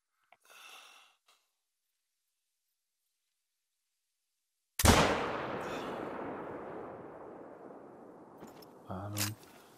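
A single loud rifle gunshot in the hunting game The Hunter: Call of the Wild, a sharp blast followed by a long rumbling echo that fades slowly, with a brief breath or voice sound before and after.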